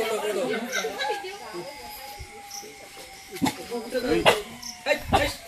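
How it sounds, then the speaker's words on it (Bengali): A dog whimpers and yips in short, thin bursts close by, while a person talks over it. "ডগি ডগু সরে যা।"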